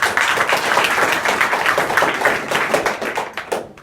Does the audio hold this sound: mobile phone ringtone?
no